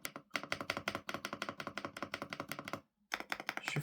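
Rapid, crisp keystrokes on a RICCKS RS8 mechanical keyboard fitted with HMX Pink Cheese switches clatter in a dense, even stream, pause briefly, then resume, heard close and alone with no talking.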